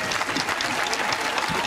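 An audience at a Frisian dictation contest breaks into a short burst of steady, dense clapping, filling the room evenly for under two seconds.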